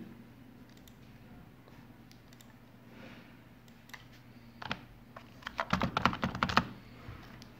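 Keys tapped on a computer keyboard, sparse and faint at first, then a denser close burst of quick keystrokes near the end, with steady background hum.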